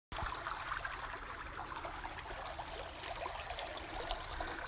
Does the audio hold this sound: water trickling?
yes